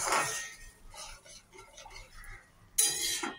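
A spoon stirring a cashew katla mixture in a cooking pan, several light clinks and scrapes against the metal, close and fairly quiet, ending in a louder clatter.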